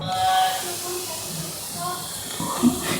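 Hot ghee and oil sizzle into gram flour for Mysore Pak, giving a loud, close, bubbling hiss that carries on throughout with a voice talking over it.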